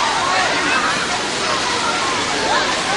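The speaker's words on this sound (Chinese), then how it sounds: "上去看一下那个瀑布吧。" A waterfall in a forest park gives a steady, close, full rushing roar of falling water, with a murmur of people's voices mixed in beneath it.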